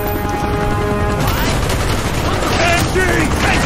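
Machine gun fire in Call of Duty: Black Ops, a loud and continuous burst of rapid shots mixed with dense battle noise, heard close throughout.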